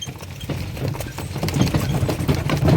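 Work mares' hooves clip-clopping in an uneven rhythm on hard ground, fairly close, growing a little louder toward the end.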